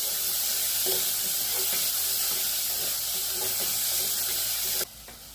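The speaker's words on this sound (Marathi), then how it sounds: "सुके बोंबील टाकले, तेही तेलामध्ये चांगले फ्राय करून घेऊया" Dried bombil (Bombay duck) fries in hot oil in a pan for an eggplant and potato dish, giving a steady, dense sizzle with faint stirring taps before it cuts off abruptly near the end.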